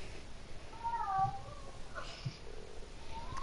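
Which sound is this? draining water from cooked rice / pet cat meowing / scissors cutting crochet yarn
pet cat meowing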